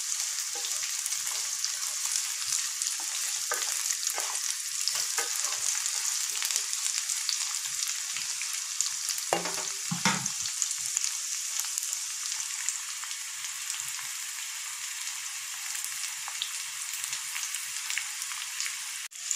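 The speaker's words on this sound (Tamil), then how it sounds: "நம்மளுக்கு எண்ணெயில் இந்த பாவக்காய் வந்துட்டு ஒரு 3-4 நிமிஷம் நல்லா வதங்கட்டும்." Bitter gourd pieces fry in oil for a few minutes, giving a steady, close crackling sizzle that carries on evenly throughout, with one brief clunk partway through.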